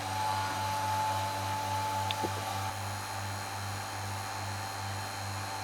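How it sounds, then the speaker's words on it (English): A vacuum pump running to degas epoxy resin in a vacuum chamber: a steady, even motor hum with a constant whine, unbroken throughout and a small click partway in. "So we're going to switch on the vacuum and you'll see it start to bubble."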